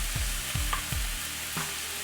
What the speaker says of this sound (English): go ahead and just saute it until it's really died down.